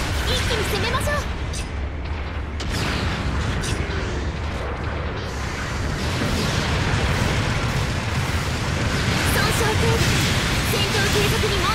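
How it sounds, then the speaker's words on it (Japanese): Support artillery bombardment in Gundam Battle Operation 2 at the North Pole base, a continuous loud roar of explosions and rumbling blasts with voices talking over the barrage throughout. "後方部隊から支援攻撃が来ます。"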